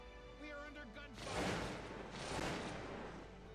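Two heavy bursts of distant gunfire in the video game Cossacks 2: Battle for Europe rumble out after a tonal electronic sound, each swelling and fading over about a second.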